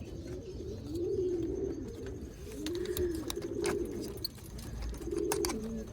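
Antique pigeons on a rooftop loft in Sialkot coo in repeated low, rolling phrases at moderate distance, several calls spread across the stretch with faint background noise and no talking.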